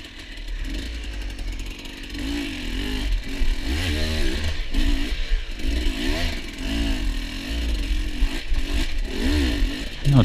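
An enduro dirt bike engine during a race, revving hard and constantly changing pitch as the throttle rises and falls, loud and close, with clattering over rough ground and no talking.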